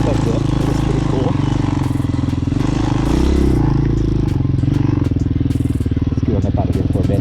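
A Hawk motorcycle rolls over dirt in first gear, its engine a steady close drone through the whole stretch with clatter and scraping from the ride, while a rider talks over it.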